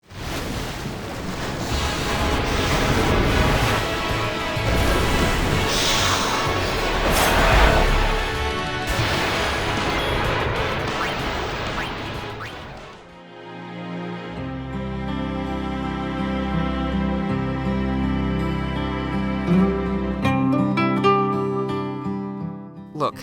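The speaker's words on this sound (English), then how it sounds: "The remastered version also received some updates to its soundtrack." Music from the remastered Final Fantasy X HD soundtrack plays clearly with sustained melodic tones in the second half, after a long stretch of rushing, wind-like noise.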